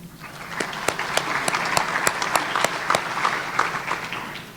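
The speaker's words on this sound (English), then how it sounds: "if we'll give them a round of applause" Guests at a Chamber of Commerce luncheon applaud local businesses, a steady moderate round of clapping with sharp individual hand claps popping out over the wash throughout.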